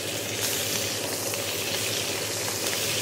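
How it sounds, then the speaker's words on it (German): Giant prawns fry in very hot rapeseed oil in a pan, giving a loud, steady, continuous sizzle with no speech over it. "und jetzt legen wir die Garnelen hier rein."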